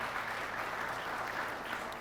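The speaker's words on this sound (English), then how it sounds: "how about some more applause for Alex Crowell?" Dense audience applause at a school show finale, a steady wash of many hands clapping throughout, moderately loud and unbroken.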